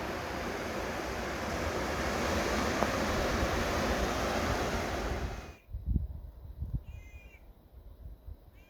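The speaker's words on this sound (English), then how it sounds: "check out this waterfall" Waterfall draining from a mountain lake in a high valley below Mather Pass, a steady broadband rush of falling water that cuts off abruptly partway through, followed by crow caws and faint wind.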